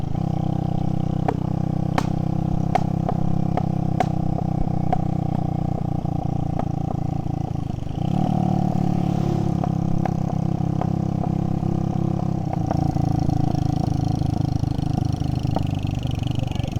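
A motorbike engine drones steadily while riding a rough, rutted dirt road in Laos, with sharp rattles and clunks from bumps over a continuous loud rumble.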